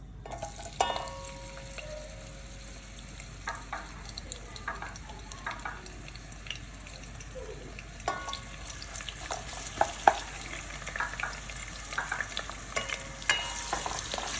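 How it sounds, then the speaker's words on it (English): Onions frying in a pan, a soft continuous crackling sizzle with scattered pops and occasional light utensil scrapes, fairly quiet and even throughout with no talking. "you just want to have a good fry on the onions"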